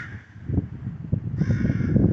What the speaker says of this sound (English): our crow buddies are up there.